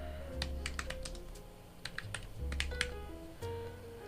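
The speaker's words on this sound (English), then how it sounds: "I'll just type it." Computer keyboard typing in a garage hangout, a quick irregular run of close, crisp key clicks over a quiet low hum, with no talking.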